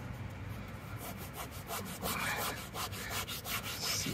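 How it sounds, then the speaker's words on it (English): Mud is rubbed by hand into an uncoated EVA foam marine mat, making a steady close scrubbing with quick back-and-forth strokes and no talk. "We've got our mud and the syringe, and here we go. That is the section with no coating. We're gonna rub it in."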